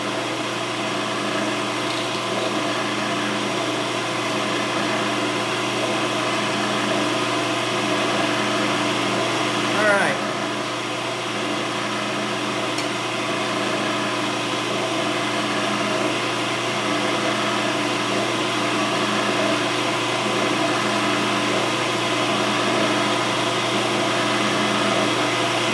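A lathe hums steadily while turning a pen blank, a continuous even whir with one faint tick near the middle, and a voice speaking over it.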